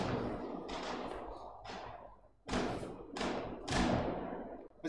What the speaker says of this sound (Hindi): पीछे बैकग्राउंड में पटाखे चल रहे हैं